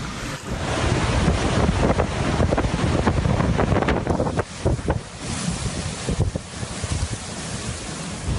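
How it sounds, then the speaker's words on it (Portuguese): Hurricane Irma's roaring wind buffets the microphone over a constant rush of heavy surf, loud and unbroken throughout. "o furacão está passando bem forte agora, muito barulho"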